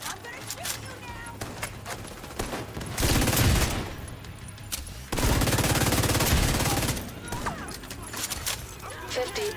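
Video game gunfire in the Battle for Brooklyn DLC: two long sustained bursts of rapid automatic fire over a busy game soundscape, loud and close, with in-game sounds in between.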